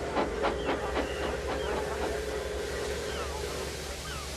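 A toy train remake of the Flying Kipper runs beside a quay, with a steady rumbling rail noise and a faint hum under a wash of harbour-like ambience and some soft clanks early on.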